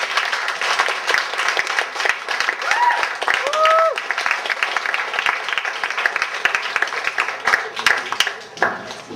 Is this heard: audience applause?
yes